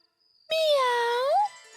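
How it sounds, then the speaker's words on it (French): A single cat's meow, loud and close, rising and then falling for about one second, with a faint high tinkle just before it. "C'était juste un chat."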